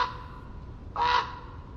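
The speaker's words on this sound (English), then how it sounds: "A raven calls out." A raven on the Oregon coast gives a single loud, harsh call around the middle, rising out of a steady background hiss of surf and wind.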